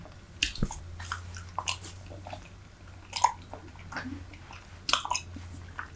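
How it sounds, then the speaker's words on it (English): Super Bubble bubble gum is chewed right at the microphone in a semi-whisper style, with soft wet smacks and squishes at an irregular rhythm and a low steady hum underneath. "we will be chewing some gum"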